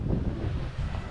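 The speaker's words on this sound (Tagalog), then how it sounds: "Ang hangin, ayaw na umihina ng hangin." Strong wind buffets the microphone in a continuous low roar, gusting unevenly with no voices.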